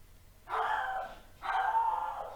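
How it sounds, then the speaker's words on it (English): A dog barks from inside a bathroom in two long, loud, sustained bursts with a short pause between them, sounding strained and agitated over a quiet background. "my dog is just going nuts in the bathroom right now"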